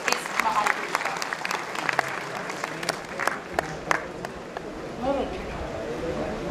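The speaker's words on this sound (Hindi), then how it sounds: "आप सभी से अनुरोध है कि जोरदार तालियों से स्वागत कीजिए इस महान पुरुष का" Audience applause welcoming a guest at a Maharaja Agrasen Jayanti event, a scattered burst of clapping with sharp individual claps that thins out toward the end, while a voice speaks over it.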